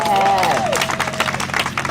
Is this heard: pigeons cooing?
no